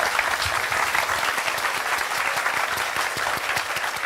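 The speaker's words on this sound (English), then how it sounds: "So let's give them a big round of applause" Steady applause from a crowd during a live Gran Turismo World Series esports watchalong, dense clapping that holds at an even level throughout without cheering or talk.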